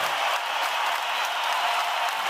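Steady applause from a crowd, dense continuous clapping at an even level, with no voices standing out.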